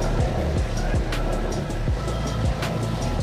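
Yamaha MT-15 motorcycle riding through a water crossing, with steady rushing, splashing water and road rumble from the bike throughout, fairly loud and close, with no talk.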